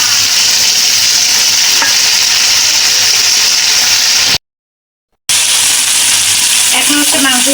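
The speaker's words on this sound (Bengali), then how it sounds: "আমি কিন্তু এই যে মাংসগুলো দিয়ে দিচ্ছি।" Goat meat tipped into a hot spice paste that has released its oil, sizzling loudly and stirred steadily with a spoon; a brief silent gap interrupts before the frying and scraping resume close up.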